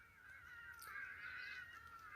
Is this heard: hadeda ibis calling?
yes